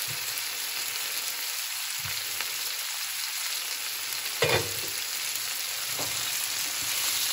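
Potato and long beans fry with chili in a pan with a constant sizzle, and occasional stirring knocks and scrapes of a spatula come through; no voice is heard.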